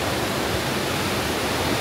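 Water rushes steadily in a hidden river, a dense, continuous roar heard close up with no voices.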